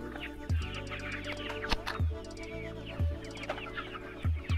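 Chickens on a chicken farm clucking and squawking up close, with repeated loud bursts of clucks over a continuous background of other birds, and no talking.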